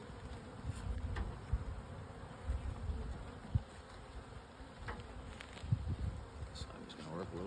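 Bees swarm around an open garden beehive in spring, with a steady, close buzzing and individual insects droning past, and faint voices now and then.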